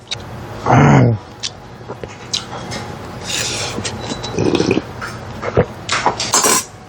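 Dishes, pots and cutlery clinking and clattering during washing up, with intermittent bursts of clatter and running sounds up close.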